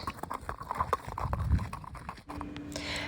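Hooves of a horse led on foot clip-clop in a brisk, steady walking rhythm, fairly close and clear, with no talking over them.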